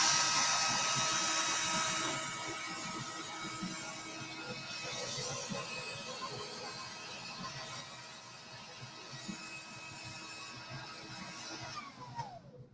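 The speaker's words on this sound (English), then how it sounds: "So I'm going to take my blow dryer." A handheld blow dryer heats a sheet of paper to bring out an invisible-ink message, giving a steady, fairly loud whirring hiss that eases slightly after the first couple of seconds and then runs on continuously, with no talking.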